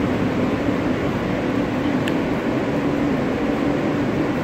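An Alstom R-160 subway train running on the J line rumbles with a steady, loud, continuous roar and hum, as heard from on board, with one faint brief squeal partway through.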